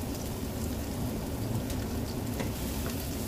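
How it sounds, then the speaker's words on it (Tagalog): Garlic frying in hot oil for a squash and water spinach dish with beef, a dense, steady sizzle and crackle that holds at an even level throughout without voices. "Then ilalagay ko na ngayon ang bawang."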